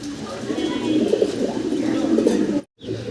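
High flyer pigeons of the Ori line coo in a loft, a close, continuous low murmuring of overlapping coos that breaks off for a moment near the end.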